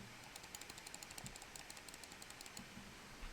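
Rapid, quiet computer mouse clicks repeat in an uneven rhythm close by, soft and dry, with no voices.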